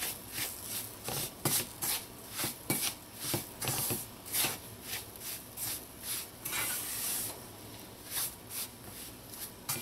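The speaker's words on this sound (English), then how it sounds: "Just mix this in for about a minute." Cream of wheat mixture for parsad is stirred in a pot in an even rhythm of repeated scraping strokes, each one a short rasping swish, close and steady with no voices.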